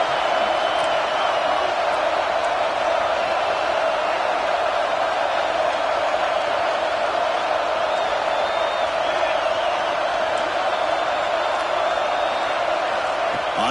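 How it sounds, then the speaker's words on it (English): A large college football stadium crowd at Texas A&M vs Georgia roars in a steady, dense wall of cheering that stays loud and unbroken, with possible voices mixed into the din. "It's early, but this crowd is fired up. Listen to this noise here."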